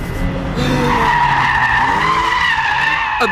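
Porsche 911 with 300 horsepower drifting with the back out, its tyres squealing loudly and continuously in a sustained skid over a droning engine.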